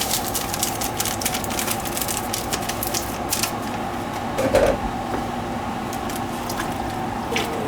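Long grain rice being stirred into a pot of soup gives soft wet squishing and liquid sloshing, with an occasional drip, at a steady low level close by and no talking.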